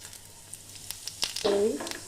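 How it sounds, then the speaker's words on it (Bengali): Cumin seeds drop into hot oil at the start of a chicken keema curry, giving a close, crackling sizzle that swells sharply near the end of the short stretch. "তেলের মধ্যে জিরেটা দিয়ে দিচ্ছি"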